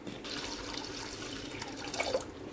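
Water runs and splashes steadily while dal is washed in a kitchen, with a continuous close-up wash of liquid and a few brighter splashes near the end, no voices.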